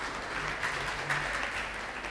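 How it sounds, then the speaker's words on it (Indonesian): Audience applause at a university student law debate semifinal, a steady wash of clapping held at an even level from start to finish with no voices over it. "Beri tepuk tangan untuk kita semua."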